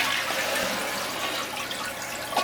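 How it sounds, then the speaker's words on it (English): A household toilet being flushed while a plunger and snake are on hand for a clog: a steady, close rush of water that fills the bowl and runs without pause. "All right, flush the toilet."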